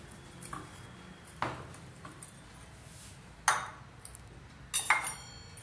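Bowls being handled while preparing idli in a kitchen, a few separate clinks and knocks of dishware spread out over several seconds, with sharp ringing pings near the end against a quiet background.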